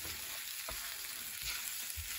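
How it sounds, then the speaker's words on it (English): Eggs cook in a pan with a soft, steady sizzle, broken by a few quiet scrapes of stirring; the sound is faint and close. "And now we got to stir."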